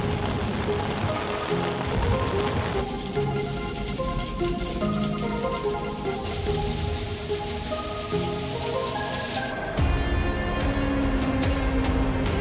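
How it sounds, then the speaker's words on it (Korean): Heavy downpour during a Jeju heavy-rain warning at a house about 200 meters above sea level, a dense steady hiss of rain pounding surfaces, loud and continuous, with dripping and splashing layered in. "비가 옵니다."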